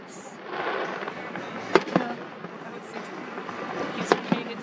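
Fireworks going off at a distance, a continuous crackling wash punctuated by several sharper bangs, moderately faint under a murmur of people talking nearby.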